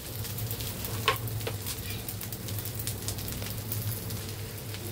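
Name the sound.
green chillies and potatoes frying in a pan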